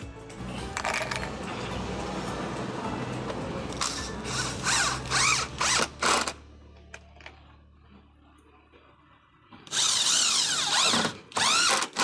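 A power drill whirs in several short bursts and one longer run while installing a 10-inch subwoofer box in a Toyota Vigo pickup, with quiet pauses and light clicks of handling between.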